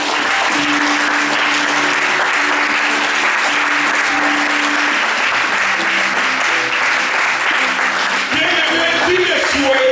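A church congregation at a Sunday service breaks into sustained, dense applause that fills the whole stretch, with cheering voices and music-like tones rising under the clapping.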